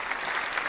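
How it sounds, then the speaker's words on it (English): Dense, steady audience applause during a church talk program fills a short burst, loud and continuous with no break. "Let me just applaud these brothers"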